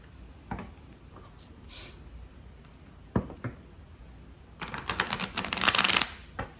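Tarot cards are handled with soft taps and slides, then riffled in a quick, crisp shuffle near the end, with no talking.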